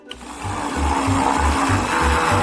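A blender whirring as it mixes vanilla ice cream with cheese, a loud steady motor whine with a pulsing low throb repeating about every half second, close up and with no talking.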